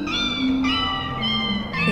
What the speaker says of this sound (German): Das sind Miezis.